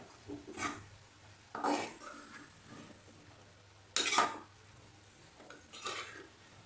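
A spoon scrapes and clatters intermittently in a pan as bitter gourd with crushed peanuts and salt is mixed, several short bursts of stirring over a quiet background.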